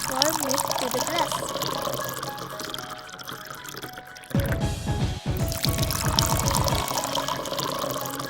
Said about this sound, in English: Pour milk to the glass.